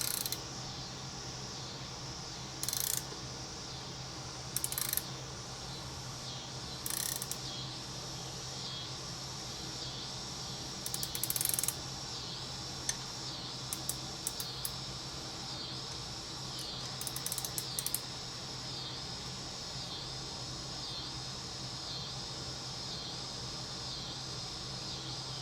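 A staking tool is tightened on a Remington 1100/870 shell latch, with a steady low hum beneath quiet, intermittent ratcheting clicks in small clusters.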